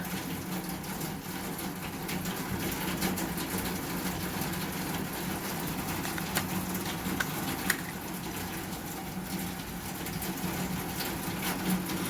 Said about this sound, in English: how hard the rain is hitting the side of the house